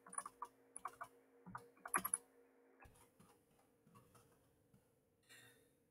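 Keys tapped on a computer keyboard while entering keywords, a quick irregular run of close, crisp clicks that thins out into scattered taps, with a low steady hum underneath.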